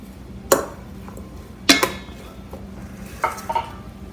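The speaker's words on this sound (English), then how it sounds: "And now we're going to mix up our mayonnaise and the ranch dressing." A utensil knocks and scrapes against a bowl in three short bursts of clinks while mayonnaise and ranch dressing are stirred together, with quiet pauses between.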